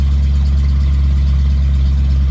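A nitrous-fed Foxbody Mustang drag car sits idling, its engine a loud, steady low rumble that fills the whole stretch with no breaks and no talking.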